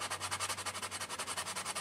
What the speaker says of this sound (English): The next thing we're going to do is we're going to sandpaper